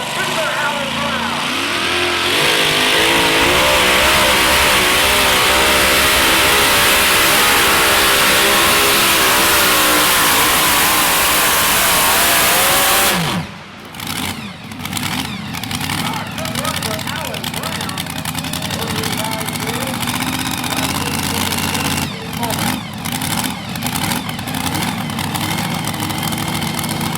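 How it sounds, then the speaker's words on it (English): A 1922 Ford Speedcam modified 2WD pulling truck revs hard at a La Plata truck pull, a loud sustained roar that cuts back partway through to a rougher, choppier engine note, with an announcer talking over it. "from Camden, North Carolina, driving the 1922 Ford Speedcam, Mr. Alan Brown."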